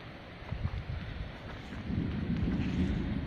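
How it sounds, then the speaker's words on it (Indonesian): Rain falls over paddy fields at Pekan Tambunan, a steady, dense low hiss with gusty rumble like wind on the microphone. It builds slightly louder in the second half, with no talking. "dan hujan sudah di Pekan Tambunan"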